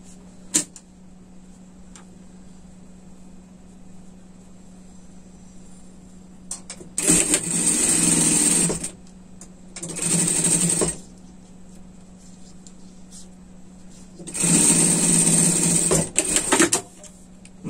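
A sewing machine runs a seam on a fabric pet sling bag in three separate bursts of close, loud stitching, with quiet pauses between them.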